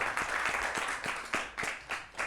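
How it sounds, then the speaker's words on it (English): Students at a scouts quiz clap for a classmate, a short burst of scattered, uneven handclaps from a small group filling the room for a couple of seconds. "Let's clap for her."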